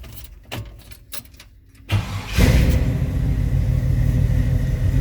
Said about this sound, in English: Let's go ahead and start this truck up.